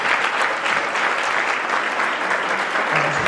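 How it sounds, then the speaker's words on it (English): An audience at a track and field hall of fame induction banquet applauds in a steady, dense burst of clapping that holds evenly throughout. "So let's give them all a great round of applause."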